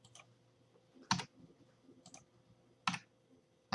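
A few sparse mouse clicks on on-screen buttons in a quiet room, spaced irregularly, close and crisp with a faint hum beneath.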